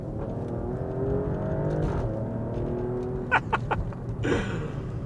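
An Alfa Romeo Stelvio Quadrifoglio's Ferrari engine idles with a steady rumble, then gives a few quick revs near the end, loud and close.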